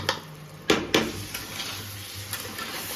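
Tomato and vegetables fry in a pan with a soft, steady sizzle, broken by two sharp clanks of a utensil stirring against the metal early on and a few lighter scrapes after.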